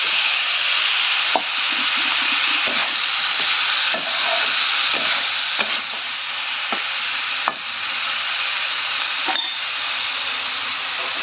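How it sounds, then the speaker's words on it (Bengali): A piece of katla fish fries in hot oil with a steady, loud sizzle, punctuated by occasional sharp pops and faint clinks of stirring throughout. "তাহলে এটাকে ভেজে নিই"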